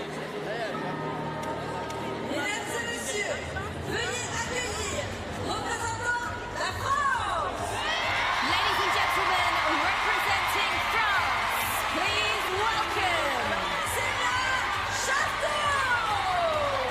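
Tennis crowd cheering and whooping for 18-year-old French player Ksenia Chasteau, a dense, loud roar of voices swelling around the midpoint and holding steady, with a commentator talking over it.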